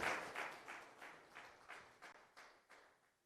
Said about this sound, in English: Let's give the CNS a round of applause.